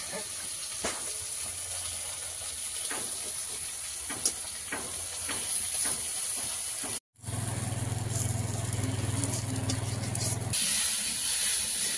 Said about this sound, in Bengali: মাছটা তো ভাজা বসিয়েই দিয়েছি।